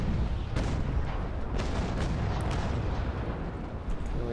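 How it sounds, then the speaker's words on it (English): Ship cannons firing a full broadside in the Naval Action video game, a dense, continuous rumble of overlapping booms with scattered sharper reports, loud and sustained throughout without talking. "he's firing full broadside"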